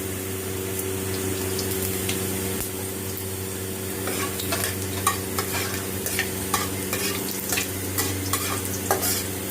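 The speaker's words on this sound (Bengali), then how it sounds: "তেলটা গরম হয়ে গেছে, এর মধ্যে দিয়ে দিলাম 2টো শুকনো লঙ্কা আর হাফ চা চামচ গোটা মেথি।" Dried red chillies and whole fenugreek seeds fry in hot oil, giving a steady close sizzle with scattered crackles and stirring scrapes throughout.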